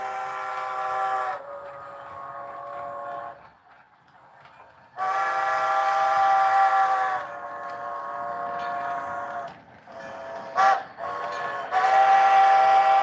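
Model train locomotive running on a layout, a steady rumbling drone with tonal harmonics that cuts in and out, with a brief whistle-like burst near the end; no talking.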